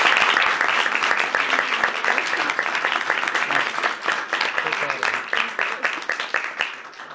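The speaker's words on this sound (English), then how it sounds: "Give her another round of applause" Steady, dense audience applause at a school-choice celebration event honoring students, continuous clapping from a sizable crowd that holds for the full seven seconds and thins slightly at the end.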